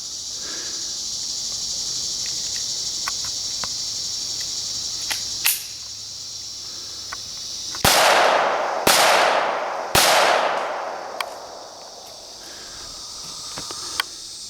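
Three sharp .22LR reports from a Taurus TX22 pistol, the first alone and the next two close together, each cracking loudly and ringing off over a steady outdoor buzz of insects.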